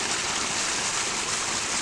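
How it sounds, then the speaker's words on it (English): A creek on the Heather Valley Trail at Castle Rock State Park runs with steady, close broadband rushing and babbling water, unbroken and alone for the whole stretch. "found a creek. Actual water in it, too."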